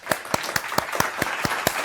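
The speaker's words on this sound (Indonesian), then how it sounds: "Tepuk tangan dulu dong." Rhythmic hand claps from the audience at an Indonesian community-learning-center talk show as a guest star is introduced. The sharp, evenly spaced beats repeat about every quarter second for under two seconds, close and moderately loud, with no talk.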